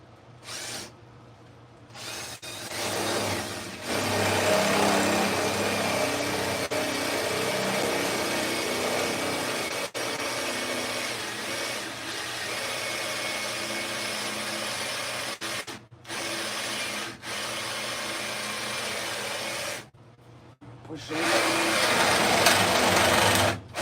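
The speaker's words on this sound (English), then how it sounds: "So I'm gonna drill this." A power drill whines into ash wood in long continuous runs, stopping briefly a few times before starting up again, fairly close.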